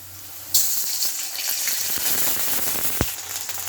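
Water is poured into a hot pan of fried onions and green chillies, setting off a sudden loud gushing sizzle that carries on as a steady hiss, with a sharp clatter partway through.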